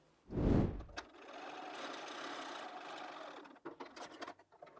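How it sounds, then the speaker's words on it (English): A sewing machine stitches jelly roll quilt pieces together in one steady, continuous run lasting a few seconds, preceded by a brief louder bump and followed by light handling noises as it stops. "So let's take those to the machine and sew."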